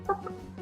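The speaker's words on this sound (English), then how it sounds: "Free range chickens. Chickens everywhere as far as the eye can see." Free-range chickens clucking briefly at close range, a short burst of hen calls followed by quieter clucks over a steady low background hum.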